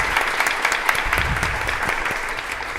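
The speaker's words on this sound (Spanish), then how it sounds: "Creo que nos podemos presentar todos con un aplauso así para que los demás escuchen." An audience in a full hall at a church gathering claps together, a dense burst of applause held steady for a few seconds.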